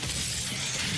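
A gory glory-kill crunch on a pain elemental in Doom, a dense, noisy burst of crunching and shattering texture that fills the whole second at steady loudness with no talk.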